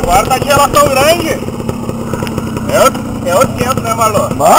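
A motorcycle engine runs steadily on a dirt trail ride at Santa Tecla, with a low, continuous mid-pitched drone. People talk loudly over it throughout.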